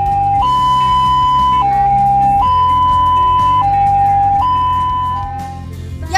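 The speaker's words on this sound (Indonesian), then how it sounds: "Yang pertama, bunyi seperti palang kereta api. Artinya, ambulan sedang dalam perjalanan menjemput pasien." An ambulance siren alternates steadily between two pitches, like a railway crossing signal, loud and close, with a regular high-low pattern repeating for several cycles before easing slightly at the end.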